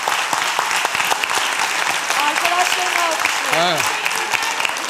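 Studio audience applause on a Turkish comedy sketch show, a dense steady clapping that runs throughout while a host talks over it, with a rising voice near the end.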